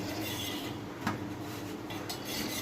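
Utensil scraping and tapping against a pan while food is stirred on a low flame, soft close clinks with one sharper knock, under faint background hiss.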